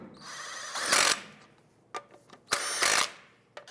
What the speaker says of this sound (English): Let's go ahead and snug down the lug nuts.